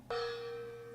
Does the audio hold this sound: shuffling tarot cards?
no